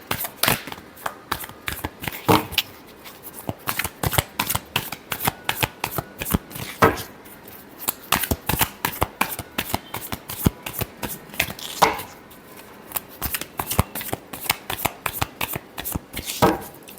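Tarot cards being shuffled by hand in rapid riffling bursts, crisp and close, with short pauses between rounds and no talking over them.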